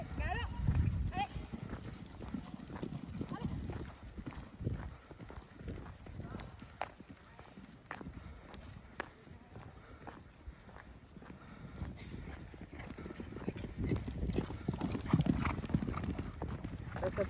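Horses gallop on a seaside trail ride, with steady rhythmic hoofbeats and creaking close by as riders talk over the sound.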